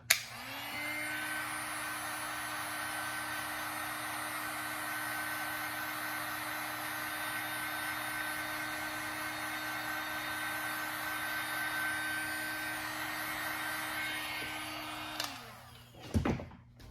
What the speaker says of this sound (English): if you take a heat gun or a hair dryer, it'll dry it faster.